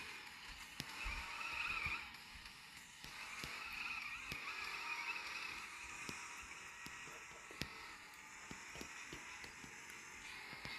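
Tire squeal from a car drifting in the Off the Road 2 video game, a steady screeching whine over engine rumble that swells near the start and carries on through the whole stretch.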